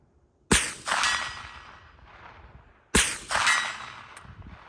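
A 9mm direct blowback pistol fires two sharp, loud shots about two and a half seconds apart outdoors, each crack followed by a short metallic clatter and a fading echo.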